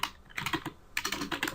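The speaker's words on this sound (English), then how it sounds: "So if I go ahead and type ping Google," Quick bursts of keystrokes on a computer keyboard as the ping command is typed, close and crisp, with a short pause in the middle before a second run of taps.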